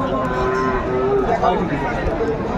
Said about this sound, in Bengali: এখানে গরু দুটি দেখছেন